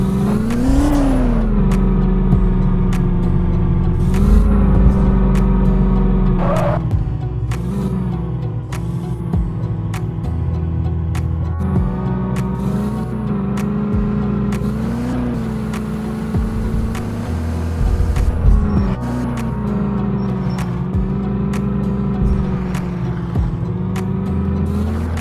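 A car pulls out of a garage with a steady engine drone and a few revs, the sound continuous and fairly loud throughout with no talking.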